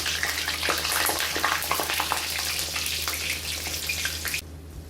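Urad dal kachori frying in hot oil, a dense, steady sizzle and crackle close up, continuous throughout and dropping off abruptly near the end.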